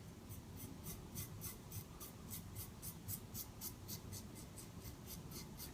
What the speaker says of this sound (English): Let's use the 58 Executive for the mustache.